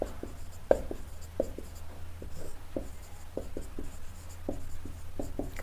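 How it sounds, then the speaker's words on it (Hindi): Chalk or a marker writes a definition on a board during a class lesson, making a run of irregular taps and short strokes over a low steady hum. No speech is heard. "पहले परिभाषा हम लिख दें"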